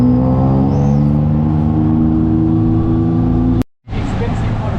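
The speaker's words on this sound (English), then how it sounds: "The man says he has a Lamborghini exhaust. It is loud though." A tuk-tuk in Bangkok traffic fitted with a loud Lamborghini exhaust, giving a steady, close, rumbling engine drone that cuts out abruptly for a moment before resuming.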